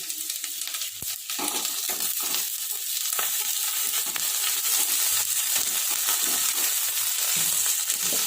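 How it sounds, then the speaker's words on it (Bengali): Chicken bharta, with coriander leaves just added, sizzles and fries in a pan while being stirred, making a continuous loud crackle with scraping stir sounds throughout. "একটু নাড়াচাড়া করবো।"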